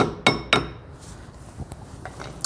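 Metal pin tapped through a Honda TRX 250 ATV rear brake assembly with a hammer: two sharp, ringing strikes close together, followed by a few fainter knocks.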